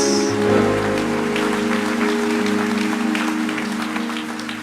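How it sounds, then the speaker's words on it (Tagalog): A church congregation breaks into loud, dense clapping in praise of God while sustained worship music plays beneath it, the applause holding strong before easing slightly. "Pwede po bang pumalakpak tayo sa pagkamangha sa ating Diyos?"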